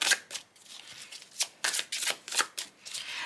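Tarot cards are shuffled by hand in a string of quick, crisp riffling bursts, close and fairly quiet, with brief pauses between them.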